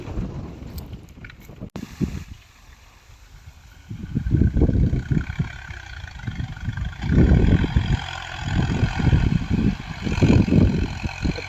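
A Ghazi tractor pulling an 11-tine cultivator in Punjab, Pakistan, its diesel engine chugging in a low rough drone that swells louder after a quieter start, with wind buffeting the microphone outdoors.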